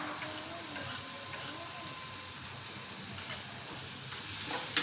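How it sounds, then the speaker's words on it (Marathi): Soyabean wadi sautés in a pan with a continuous soft sizzle and occasional stirring scrapes, close and steady throughout. "थोडीशी हलकीशी परतून घ्यायची आहे"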